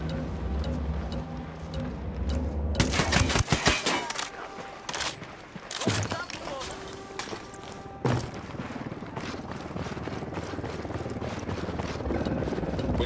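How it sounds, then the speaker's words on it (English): Helicopter approaching in the video game Ghost Recon Wildlands at a desert airport, a steady rotor drone beneath bursts of gunfire and thuds, growing louder toward the end. "We got a chopper coming in."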